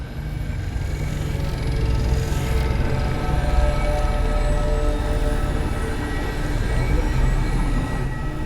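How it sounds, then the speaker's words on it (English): Train rolling past in the sci-fi shooter Destiny, Edge of Fate expansion, a heavy, steady low rumble with faint metallic ringing tones layered on top, loud and sustained throughout without speech. "I've seen primitive trains like this in old ruins."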